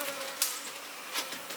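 Honey bees swarm around an open beehive as supers are cleared for honey extraction, a close, steady high buzz with individual bees droning past.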